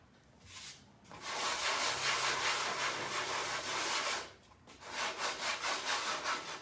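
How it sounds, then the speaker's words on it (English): Wooden furniture coated in chalk paint is sanded by hand with light pressure, giving steady broadband scraping strokes, a long continuous pass and then a run of shorter rhythmic rubs, close and fairly quiet. "This side I'm gonna sand a little bit."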